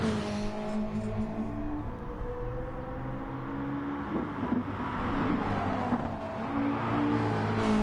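A Ford Mustang race car in Gran Turismo Sport holds a steady engine drone, rising and falling in pitch as it works through corners in a one-on-one race, loud and continuous with no voices over it.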